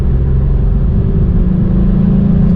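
VW Up! GTI small petrol engine revving toward about 6,000 rpm on the road, a steady loud in-cabin drone with a low rumble and a firm mid-pitched engine tone holding throughout, no voices.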